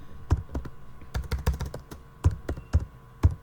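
Keys on a computer keyboard are typed in short uneven bursts, close and clear, while a search is entered, with no voices.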